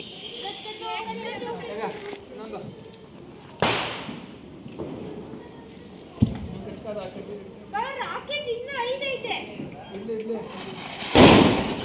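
Diwali firecrackers bursting outdoors, a few sharp loud cracks spaced several seconds apart, heard over people chattering and calling out nearby.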